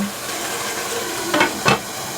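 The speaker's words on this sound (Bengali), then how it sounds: "মিডিয়াম হাই হিটে মাংসটাকে পাঁচ থেকে সাত মিনিট আমি কষিয়ে নেব" Meat for tehari sizzling in a pot over medium-high heat, a soft steady hiss with two brief louder bursts of crackle or stirring near the end.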